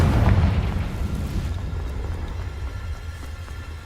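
A Confringo fire spell blast in the Hogwarts Legacy video game: a loud booming explosion at the start that rolls off into a sustained low rumble, alone without voices.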